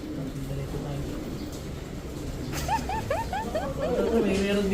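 Pigeons in a hobbyist loft give a series of short rising calls and coos over steady background noise and murmuring voices, the birds clearer toward the end.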